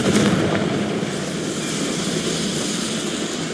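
A Confringo fire spell explodes in the Hogwarts Legacy video game, a loud booming burst at the start that decays into a sustained rumbling roar.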